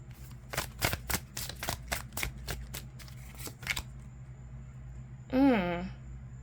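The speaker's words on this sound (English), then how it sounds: "But while I was shuffling this, I got the sense" Tarot cards riffle-shuffled up close in a quick series of crisp flutters, then a short voiced sound after a brief pause.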